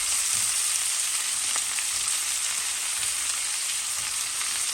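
Hot links and bacon frying in a grill pan on a stovetop at medium-low heat, a steady dense sizzle with faint crackles and pops, close and continuous throughout with no talking.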